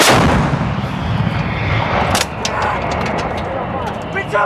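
M777 towed 155 mm howitzer firing a live round during a Rolling Thunder live-fire drill, a single massive close boom at the start decaying into a long rumbling roar, with sharp clanks and metallic clicks afterward.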